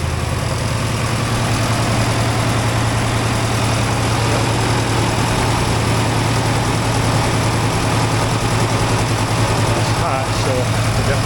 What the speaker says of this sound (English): But it sounds really good. Like, that's the best this truck has sounded in a long time.